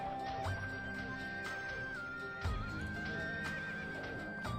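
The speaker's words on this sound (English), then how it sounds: "You know how you don't lose your mind at the horse noises?" Horse neighing and clip-clopping hooves in the Chronostory game, repeated loudly over a steady layer of game music with a sustained tone, the whinnies recurring every couple of seconds.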